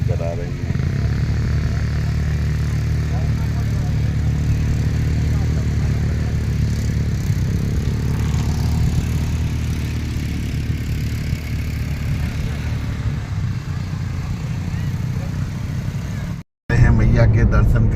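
A motorcycle giving children rides on a beach drones steadily in the background, a low continuous engine hum, with someone talking over it nearly throughout.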